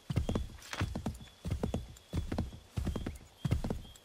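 Horse hooves clip-clopping in the video game Assassin's Creed 3, a brisk repeated rhythm of hoof strikes in quick clusters, close and clear with no talk.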